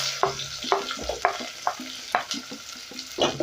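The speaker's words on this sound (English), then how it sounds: "I'll go in with my onions" Onions going into hot cooking oil for brown pilau rice, a close sizzle punctuated by a series of quick scraping stirs and light clicks of a utensil against the pot.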